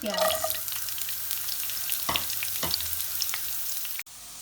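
Onions frying in a pan for potato and pea rice, a steady close sizzle with a couple of brief stirring scrapes, cut off abruptly near the end.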